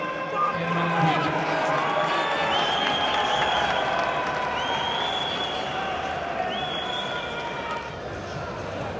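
An audience at a boxing match applauds in a steady, dense wash of clapping with crowd noise and scattered calls, sustained throughout at moderate distance.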